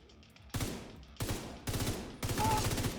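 FAMAS rifle gunfire in a video game, fired in four rapid automatic bursts, loud and close, each burst a fast rattling string of shots.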